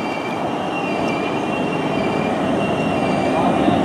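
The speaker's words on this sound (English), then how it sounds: "departing now is the 1505 Great Western Railway service to London Paddington" A Great Western Railway service to London Paddington departs, with a steady rolling train rumble, faint high wheel squeal tones, and gradually building loudness as it pulls away.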